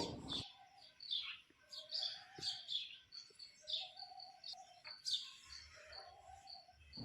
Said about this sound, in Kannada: ಬೆಳಗ್ಗೆ ಎದ್ದ ಕೂಡಲೇ ಪಕ್ಷಿಗಳ ಸೌಂಡ್ ಅಂತೂ ಮಸ್ತ್ ಕೇಳಿಸುತ್ತೆ ನೋಡ್ರಿ